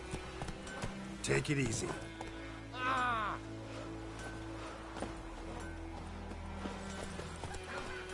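In The Witcher 3, a horse trots with soft hoof clops under game ambience, a brief whinny rising near the middle, while a voice speaks a short line early on.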